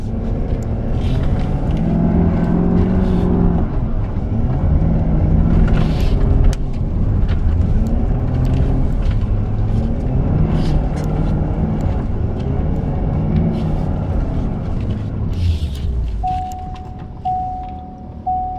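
A 2017 Ford Powerstroke diesel truck engine with traction control disabled drones and revs while the truck slides sideways, a loud continuous rumble with shifting pitch and no voices.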